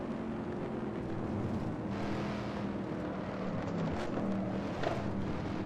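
Steady low engine drone of a Shelby Cobra lapping Spa in Assetto Corsa, a continuous moderate rumble with slight pitch shifts as the car accelerates.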